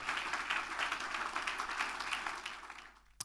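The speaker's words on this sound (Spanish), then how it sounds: "Fuerte ese aplauso de alabanza al Señor." A congregation claps in praise to the Lord during a Sunday church service: dense, steady applause that holds for about three seconds, then tapers off and stops.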